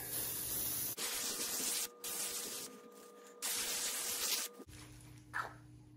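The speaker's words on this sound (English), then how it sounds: "we'll spray this down with some penetrating oil" Several bursts of PB Blaster penetrating oil spraying from an aerosol can onto a John Deere aerator spreader's chain, each a second or so long with short pauses between, close by and fairly loud.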